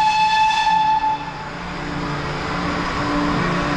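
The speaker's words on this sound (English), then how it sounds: "you should hear the whistle from the steam from Clun Castle as we walk up here" Steam locomotive Clun Castle sounds a loud, sustained steam whistle at the start, holding a steady tone for about a second before fading into rumbling railway ambience with faint tonal traces, no voices present.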